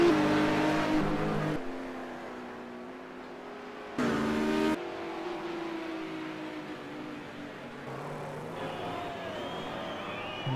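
A 1985 Rover touring race car at the Lady Wigram Trophy race, its engine revving and climbing through gears in tight corners, with sharp cut-offs and pitch shifts between bursts of acceleration.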